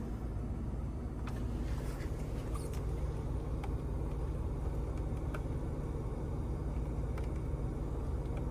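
A 2020 Ford F-150 Raptor with off-road suspension drives along, its engine a steady low hum heard from inside the cab under air-conditioning fan noise, with no speech.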